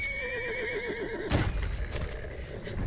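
A horse in the Conan Exiles video game gives a clear, wavering whinny lasting about a second, followed by a sharp impact and rumbling movement noise, with no talking.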